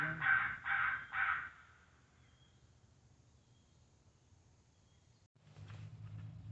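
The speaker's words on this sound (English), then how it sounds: "I think I just heard a crow in the distance" A crow gives three quick caws in a row, faint and distant over a quiet outdoor evening in Indiana, followed by low rustling near the end.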